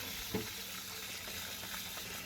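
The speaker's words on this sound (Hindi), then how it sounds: "मैंने सारी चीज़ें समेट कर बर्तन वॉश करने शुरू कर दिए" Tap water runs steadily while dishes are washed in a home kitchen, a close continuous hiss with one small knock near the start.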